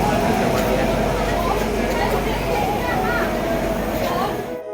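At a railway station an arriving train gives a continuous low rumble and rolling noise, with crowd chatter and voices mixed in throughout.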